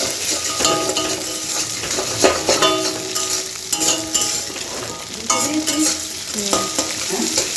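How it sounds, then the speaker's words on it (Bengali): Eggs fry in a pan for egg bhujia, giving a loud, continuous sizzle broken by repeated scraping and clattering of a spatula against the pan. No one talks. "এখন ডিম ভাজছি ডিমের ভুজিয়া বানাচ্ছি"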